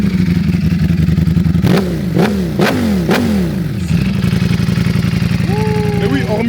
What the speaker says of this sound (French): Le petit Acra, très beau. Il n'est pas forcément visible, mais il fait un beau bruit.